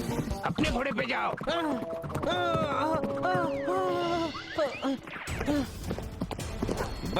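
In a cartoon horse race, hooves give quick clip-clop knocks under loud, animated voices and music-like tones, with people speaking and shouting throughout.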